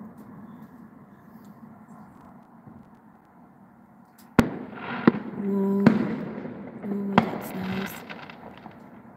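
Outdoor fireworks display: after a quiet hum, a sharp bang sets off a cluster of loud crackling bursts and pops with rumbling tails, heard without any talk.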